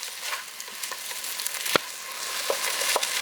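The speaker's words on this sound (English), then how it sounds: "Now we are going to add 3 cups of sliced okras. Let this cook for around 5 minutes again." Sliced okra cooking in a pot for a Trinidad okra and rice dish gives a steady, close sizzle and hiss, broken by a few faint clicks and taps.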